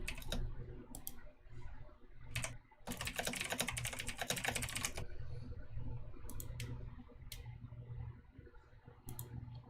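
Steady fast typing on a mechanical computer keyboard, with dense close clicks and a louder clattering flurry partway through, over a low background hum.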